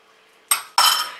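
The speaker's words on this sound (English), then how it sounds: "I'll add the chia egg too and mix it all in." A utensil stirs a vegan waffle burger mixture with chia egg added, giving two short scraping, clinking strokes against a bowl, close and fairly loud.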